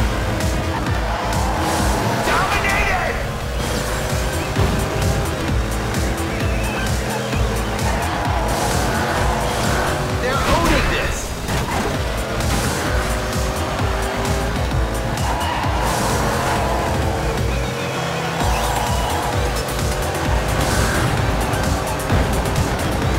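Race cars roar through the final lap of a Miami event in the Dirt Showdown video game, with loud, continuous engine revving, shifting pitches, tire squeals and skids, while a commentator's voice is faintly present.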